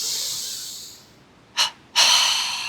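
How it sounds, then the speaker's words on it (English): Deep nasal inhalations during a belly-to-chest pranayama breathing exercise: a long hissing breath fading out, a short sharp sniff, then another strong sustained inhale, close and alone. "Inhale belly. Inhale chest."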